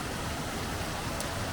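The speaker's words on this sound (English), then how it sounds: "But it's actually created a waterfall here" A waterfall formed by rain runoff pouring off the hills on foggy Dartmoor gives a steady, dense rushing hiss throughout, fairly close and unbroken.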